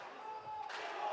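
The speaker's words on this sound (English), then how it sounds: "the crowd is getting increasingly louder as these rounds tick on by" An esports arena crowd at a Rainbow Six grand final between Team BDS and Team Falcons roars, the cheering swelling louder partway through and holding at a sustained, distant roar.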